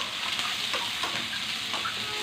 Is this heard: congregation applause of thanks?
no